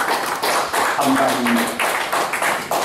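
Church congregation applauds a worship singer after a hymn, a steady, dense patter of clapping lasting throughout with a voice speaking briefly over it.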